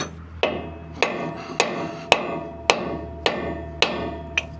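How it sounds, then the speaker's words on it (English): A hammer strikes metal repeatedly while a worker fixes a Peterbilt cabover heavy wrecker, with eight sharp, evenly spaced blows about every half second. Each hit is loud and close and rings briefly over a low background hum. "I'm not a left-handed hammer swinger."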